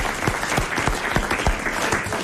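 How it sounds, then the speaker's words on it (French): Applause for a contestant on a 1996 French television game show, a steady, dense clapping from a studio audience that carries on evenly throughout without any voices. "Applaudissements pour Monsieur Goblet de Leuze"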